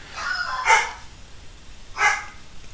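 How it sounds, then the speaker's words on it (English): Two dog barks, a couple of seconds apart, sound from a room nearby over a faint steady background hiss, and nobody speaks over them. "pardon for the dogs"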